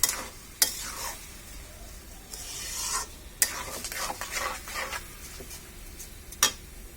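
Rice is stirred and fried in a karahi, with a soft continuous sizzle broken by occasional sharp scrapes and clicks of the spoon against the pan, close up and with no talking.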